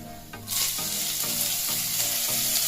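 Chopped potatoes and cumin seeds hit hot oil in a kadhai, bursting into a loud, close sizzle after a short quiet moment, then frying steadily with faint stirring scrapes.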